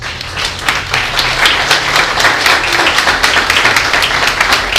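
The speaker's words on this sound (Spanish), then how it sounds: "¿Cuánto le puede dar un aplauso, Señor?" A church congregation applauds, with loud close clapping holding steady for a few seconds under a low hum from the room.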